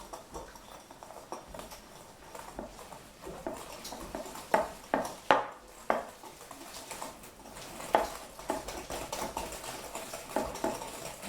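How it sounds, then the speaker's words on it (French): During preparation of a chocolate religieuse, a utensil stirs in a bowl, making soft scraping and irregular clinking taps that come close and clear in the middle stretch. "Je vais mélanger."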